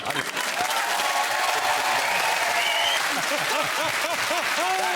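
A studio audience claps in a dense, sustained burst of applause, loud and close, with speech briefly audible over it.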